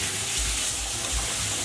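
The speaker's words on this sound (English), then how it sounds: "So we'll add in our prawns and shrimp now. And if you're comfortable, start tossing your pan." Prawns and shrimp sizzling in a pan for Chinese special fried rice, a loud continuous hiss of frying with a low rumble, close and steady throughout.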